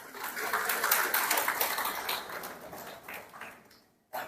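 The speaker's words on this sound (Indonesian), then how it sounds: "Tepuk tangan dulu untuk ayam." A church congregation gives an Easter service round of applause, a broad wash of clapping that swells, then gradually thins and fades before a brief pause and a final sound.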